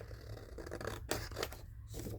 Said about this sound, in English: Just cut it out the best I can.